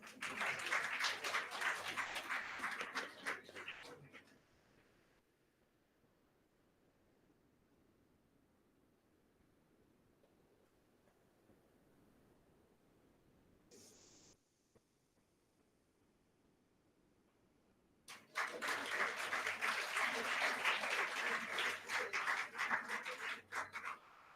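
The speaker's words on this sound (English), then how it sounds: "Let's give a round of applause." Audience applause in a hall at a faculty development event, a burst of clapping at the start that fades into quiet, then another strong round of applause near the end.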